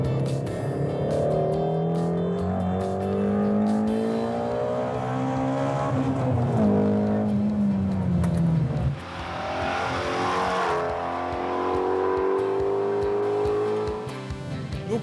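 Aluminium 526-horsepower sports car engine revving up to 8250 rpm, a loud rising howl that climbs, drops back, then rises again in strong sustained pulls, heard close and alone.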